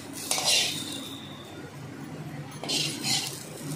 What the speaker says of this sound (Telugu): ఇప్పుడు నేను ఈ పచ్చిమిరపకాయ ముక్కల్ని మిక్సీ జార్లోకి తీసుకుంటున్నాను